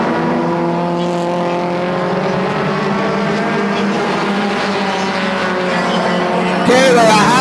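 Mini stock race cars circle Sunset Speedway, engines droning with a steady layered whine from several cars close by, a louder car sweeping past at the end, under an announcer's running commentary.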